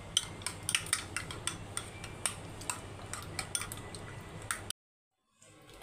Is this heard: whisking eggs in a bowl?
yes